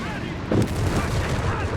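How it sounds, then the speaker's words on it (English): A 75mm tank cannon fires in the Company of Heroes 3 video game, one sharp booming shot over a busy battlefield bed of rumble and distant gunfire. "Scot blasting away with the 75mm cannon."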